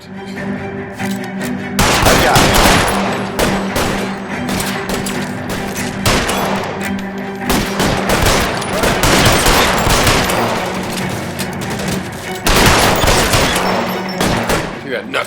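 Rapid bursts of gunfire from a period shootout in the game LA Noire, loud and near, repeated volleys through most of the stretch with brief lulls, people talking underneath.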